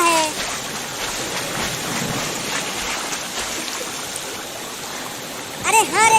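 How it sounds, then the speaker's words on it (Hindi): Steady water of a stream flows continuously in a Hindi cartoon as a basket carrying a small child drifts along it, a soft even wash with a few brighter splashy accents near the end. "अरे रुको चिंटू, और वहाँ देखो, उस टोकरी में एक छोटा बच्चा पानी में बह रहा है।"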